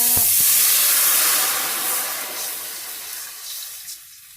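About 2.5 cups of water pours into a hot pan with a loud sizzling hiss that gradually fades and settles into a softer steady bubbling.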